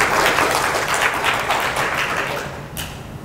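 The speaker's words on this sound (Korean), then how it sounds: "큰 박수 부탁드립니다" Conference audience at a technical talk on GPU acceleration of a global atmospheric model gives a loud, sustained round of clapping, dense and even, tapering slightly before a sharp final clap.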